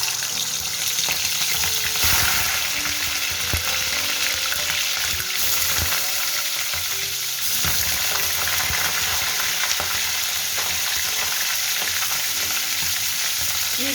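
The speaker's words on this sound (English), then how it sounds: "So our first step will be frying the chicken with little salt." Chicken shallow frying with a little salt in refined oil sizzles and crackles steadily throughout, loud and close, with occasional stirring clicks and no talking.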